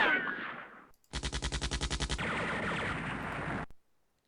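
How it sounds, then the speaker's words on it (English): A machine gun in the Campaign Series: Rising Sun war game fires a rapid burst of about a dozen sharp, evenly spaced shots. A sustained crackling roar follows, then cuts off abruptly, with an earlier muffled rumble before the burst. "There's a machine gun."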